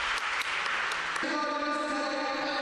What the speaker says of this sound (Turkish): Yoğun alkış işte Mersin'de tribünler, ambiyans.